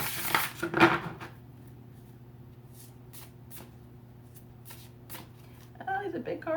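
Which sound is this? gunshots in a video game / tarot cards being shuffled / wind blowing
tarot cards being shuffled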